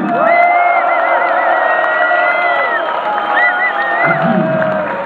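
A concert crowd at Le Trianon cheers for a trumpet player from the band, loud sustained whoops and shouts over a steady roar, with little distinct clapping.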